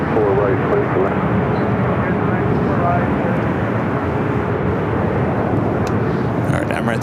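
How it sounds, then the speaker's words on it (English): An Emirates Airbus A380 landing on runway 24 right at LAX produces a loud, sustained jet roar that fills the whole stretch, with faint radio voices underneath. "Emirates A380 Super early tower wind 230, runway 24 right, clear to land"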